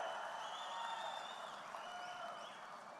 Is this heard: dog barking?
no